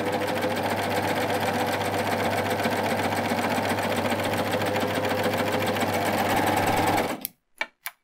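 A Baby Lock Euphoria coverstitch machine sews a narrow cover stitch with a loud, fast, continuous mechanical whirr for about seven seconds, then stops abruptly, followed by a couple of light clicks.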